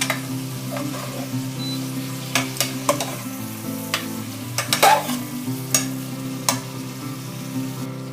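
Vegetables stirring and sizzling in a pan for restaurant-style stuffed gravy pulav, with a steady low frying hiss under repeated sharp scrapes and taps of a spoon against the pan.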